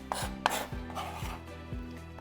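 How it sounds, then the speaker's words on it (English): A knife chops thyme for a lamb marinade on a cutting board, with about four firm, evenly spaced chops close up amid light rubbing and scraping. "So I'm chopping up the thyme."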